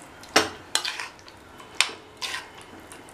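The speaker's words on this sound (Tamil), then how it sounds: "ஊறுகாயை சேர்த்தாச்சு. இதை நல்லா மிக்ஸ் பண்ணி விட்டுறலாம்." A spoon works lemon pickle into cooled tempered oil in a pan, making several sharp scraping strokes and clinks at a steady pace, close and moderately loud.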